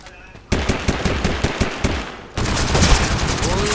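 A fast, loud burst of automatic gunfire rattles in Totally Accurate Battlegrounds, followed by more shots and a dense crackle, while players shout under the noise.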